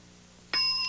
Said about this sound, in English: You may start describing it when you hear the bell.